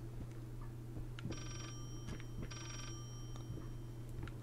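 Telephone ringing in the horror video game Layers of Fear: two bursts of a bright electronic bell trill, steady and faint, over a low ambient hum with no talking.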